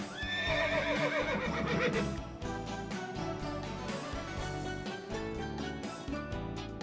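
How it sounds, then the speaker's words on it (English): A horse gives a loud, shaky whinny in the first two seconds, set over a busy, steady musical or noisy background that carries on after the call fades. "Horse."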